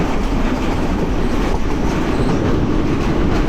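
Mymensingh Express train crossing a river bridge in darkness, a loud, dense, continuous rumble and rattle of wheels and carriages, heard close from on board without pause.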